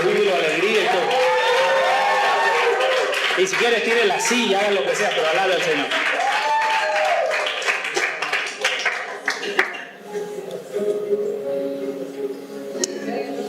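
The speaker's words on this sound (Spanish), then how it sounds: "Dale un fuerte aplauso aquí." A church congregation applauding and cheering during an evangelical service, steady dense clapping and shouts sustained throughout, with a preacher's voice speaking over the crowd.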